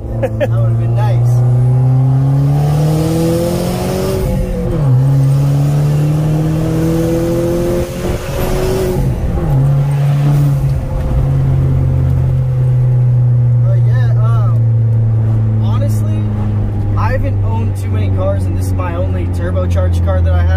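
Loud in-car recording of a turbocharged car with open headers accelerating through gears, the raw exhaust tone climbing, dropping at each shift and climbing again, close and continuous, easing off near the end.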